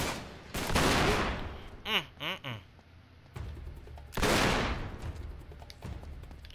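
Gunfire from a weapon in the video game Uncharted 3, set in the London Underground, rings out in sharp bursts with a rapid rattling volley in the middle, loud and close, with a few brief voices between shots.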